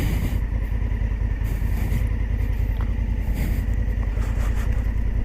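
A Honda Africa Twin adventure motorcycle rides a rough dirt track, its engine droning steadily and close with constant rumbling and rattling from the uneven surface.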